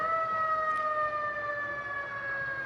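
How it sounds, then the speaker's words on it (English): A 1947 Kenworth fire engine from the Tumwater Fire Department sounds its siren during a holiday parade, a loud, sustained wail holding steady tones with a slight downward drift, close and continuous with no talking. "I think the fire trucks have arrived"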